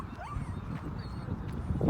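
A dog brought along by a family at the waterside in Osterley Park, London, gives a brief whimper and soft yips amid outdoor background noise, moderately near.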